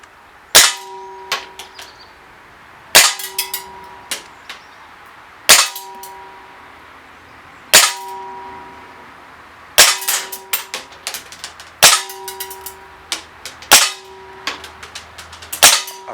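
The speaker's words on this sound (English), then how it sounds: "we're going to shoot 8 rounds first, take a look at the target" Baikal Drozd IZH MP-661K BB machine gun firing single rounds, eight sharp metallic cracks spaced a couple of seconds apart, each with a short ringing ping, growing quicker toward the end.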